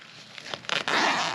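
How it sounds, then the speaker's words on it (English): The top zipper of a DJI Mini 4 Pro Fly More Edition case is pulled open, a close, loud ragged zip in quick bursts that runs into one continuous pull at the end. "The top zipper."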